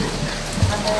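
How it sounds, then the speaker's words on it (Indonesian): Rain falling through sunshine in Sumenep on an election day, a steady close wash of patter with a low rumble and a brief bump of noise near the end. "situasi hari ini hujan panas"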